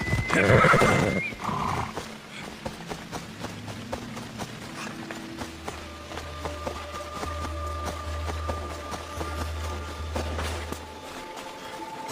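In Assassin's Creed Odyssey a horse lets out a loud, close whinny, then its hooves clip-clop in a steady galloping rhythm under a low game music drone.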